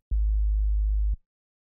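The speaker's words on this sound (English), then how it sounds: "This isn't the hardest of 808s that I use in some of my beats." A single sustained 808 bass note from a beat built in FL Studio, deep and loud, holding steady for about a second before cutting off cleanly, heard alone with no talk.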